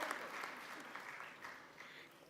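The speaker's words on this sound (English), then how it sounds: "I want to, a round of applause." Faint audience applause at a German industry and commerce delegation event in East Africa, a soft continuous patter of many hands heard from a distance, gradually tapering off.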